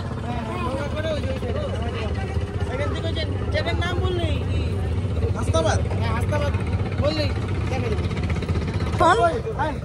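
A boat ride on a river in Hasnabad, with a steady low engine drone running throughout under almost continuous nearby conversation and background chatter.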